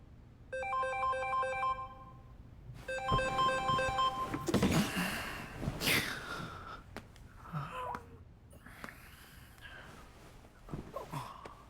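A phone ringtone trills in two repeated electronic bursts in a movie scene, then breathing, rustling and movement sounds follow with no speech.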